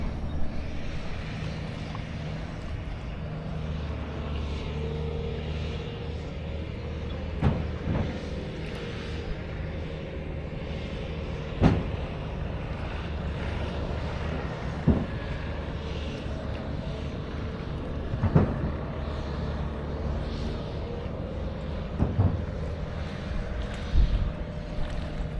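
A fixed-wing airplane flying in to land over Skiathos makes a distant, steady engine rumble beneath wind and shoreline noise, with occasional knocks and no voices.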